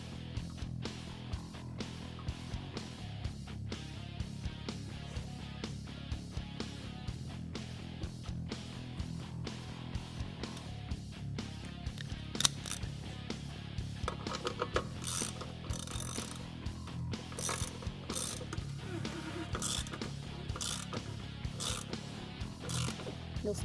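M10 by 1.25 bolt being threaded into the secondary clutch sheaves of a Kawasaki Teryx KRX 1000, a steady run of rapid ratcheting clicks over a low mechanical hum, with sharper clicks later on.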